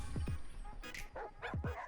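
A dog in the zombie survival mobile game Days of Planet Earth gives several short, sharp yips and barks in quick succession over a steady game background, close and moderately loud.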